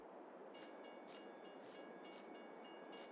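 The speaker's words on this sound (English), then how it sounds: "One of the trains is running." A train running in the video game Farming Simulator 22 on the Angel Mountain map, a faint steady rumble of railcars with a rhythmic clickety-clack of wheels over rail joints, with no voices.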